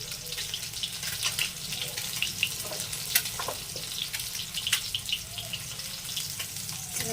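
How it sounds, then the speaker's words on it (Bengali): Halved boiled eggs dusted with turmeric fry in hot oil, making a dense, continuous crackling hiss with scattered sharp pops, close and fairly loud, with no talking. "ডিমগুলো ভালো ভাজা হয়ে গেছে"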